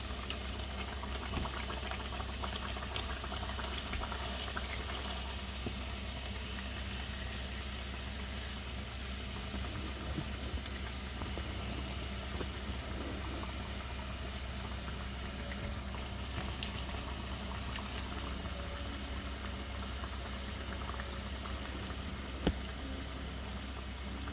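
Mini sopapillas frying in hot oil make a constant, dense bubbling sizzle with a low steady hum underneath, unbroken for the whole stretch apart from one small click.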